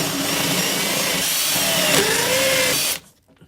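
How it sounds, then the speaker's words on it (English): A power drill bores a 5/8 inch hole into a motorhome floor, whirring loudly and steadily for about three seconds with a rising pitch before it abruptly stops. "We have to drill a giant hole, well, not giant, this big."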